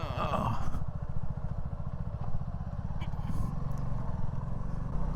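A motorcycle rides through thick mud, its engine a steady close chugging drone with faint clatter and scraping underneath, while someone talks over it.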